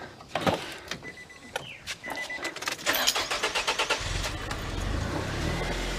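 A car engine cranks with clicking and whirring, catches, then settles into a rough, uneven idle with pulsing chugs and sputters, close and fairly quiet.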